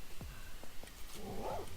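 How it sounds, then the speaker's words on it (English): Dogs yelp and bark a few times in a Minecraft game, short sharp calls scattered across a quiet backdrop, ending in a brief whining bark. "So I brought these dogs over so I can get some taming levels,"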